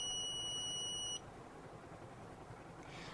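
A loud, piercing electronic beep from a smart keychain's alarm sounds continuously for about a second, then cuts off abruptly, leaving quiet background hum.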